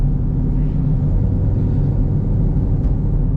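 A 750 hp Chevrolet Camaro ZL1 on slicks cruising on backroads, its engine a loud steady low rumble heard from inside the car throughout.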